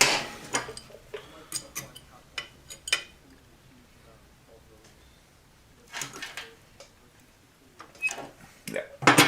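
A metal motor-mount bracket is bent up during a Honda Grom 300 engine swap, giving scattered sharp metallic clanks and clicks in uneven bursts, close by, with quiet stretches between them.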